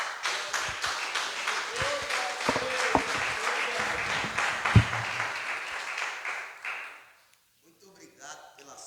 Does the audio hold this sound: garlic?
no